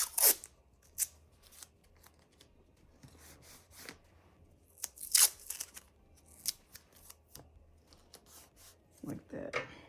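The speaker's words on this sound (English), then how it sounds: "I'm going to add some more tape just to give it a little more reinforcement." Tape being torn and pressed onto fabric while making an embroidered pocket pouch, quiet crinkly rips and scratchy taps in irregular bursts, close up, with a person speaking now and then.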